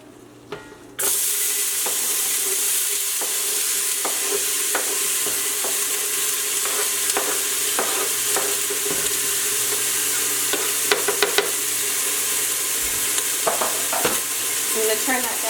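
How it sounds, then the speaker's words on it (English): Onion and garlic sautéing in a warm pot, a loud continuous sizzle beginning abruptly after a quiet second, with scattered clicks and scrapes of stirring throughout. "we're going to put some onion and some garlic to saute in here"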